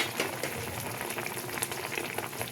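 Pre-fried eggplant pieces go into a hot pan and cook with a steady, soft, bubbling sizzle that holds evenly throughout, fairly close and with no talking.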